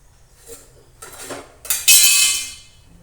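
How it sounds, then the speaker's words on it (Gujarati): A lid is set over a pot of freshly boiled kadhi on a gas stove, with a few light metallic taps followed by one loud, ringing clatter of metal on metal that fades out, close by with no talking. "હવે આપણે ગેસ કરશું બંધ અને આપણે તેને ઢાંકી દઈશું."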